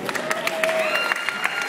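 Audience applause after a student performer is introduced, a steady wash of clapping with a shouting voice rising over it and a faint tonal line running through.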